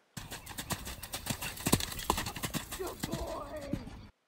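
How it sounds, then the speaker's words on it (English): A horse jumping a show course in a halter hits the ground with rapid, rhythmic hoofbeats close by. The clopping is steady and fairly loud with no one speaking. "This was the first time I jumped Max in a halter, and I completely bury him to the base of this jump"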